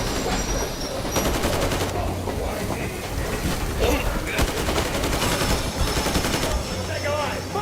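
Dense, continuous gunfire from the video game Metro Exodus, with rapid bursts and shots layered over a steady rumbling game soundscape, loud and sustained throughout.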